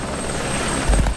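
French army military helicopter during a training exercise, a steady rotor drone throughout with a heavier low thump near the end.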